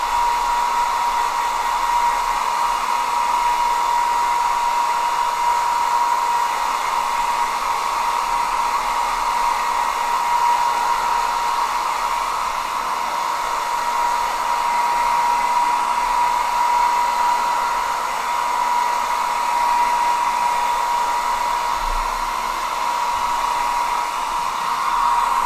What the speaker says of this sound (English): Let me pull out my trusty hairdryer.